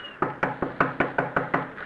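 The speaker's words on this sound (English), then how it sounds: "I knocked politely." Eight sharp, evenly spaced knocks on a flimsy shack door built from paper, paste and wire, a radio drama sound effect, loud and close with no voices.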